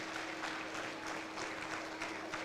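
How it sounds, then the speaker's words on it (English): Faint, steady applause from a conference audience at a safe motherhood event in a hall, a soft continuous patter of many hands clapping at a distance with no clear talk over it. "please clap for them"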